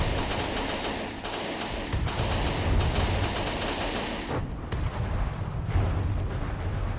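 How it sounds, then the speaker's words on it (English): Rough Rider missiles launch in a From the Depths naval battle, sending a continuous barrage of loud, overlapping booms and rapid firing with brief dips between volleys. "There's the Rough Rider missiles."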